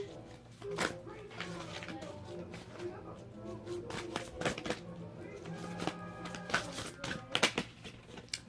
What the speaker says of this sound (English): So let's pull some fairy cards for you for deck 4.